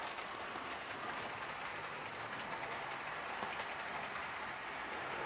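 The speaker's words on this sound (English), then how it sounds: "we're away cleaning the track. So we'll leave that running for a bit" A small Märklin model train runs continuously on a track during track cleaning, with a steady whirring rumble and faint clatter, no voices.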